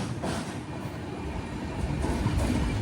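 Continuous loud rumble of the Poorna Express running after leaving Madgaon, recorded from a sleeper-class coach, with dense rolling wheel noise and light clatter that grows slightly stronger toward the end.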